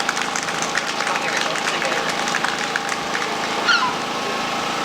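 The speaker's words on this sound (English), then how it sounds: "If we could give her a bit of a round of applause" Audience applause for the deputy mayor at a D-Day 80th anniversary club event by the sea in Bridlington: a steady, dense wash of clapping from a crowd, moderately loud and even throughout, with faint voices mixed in.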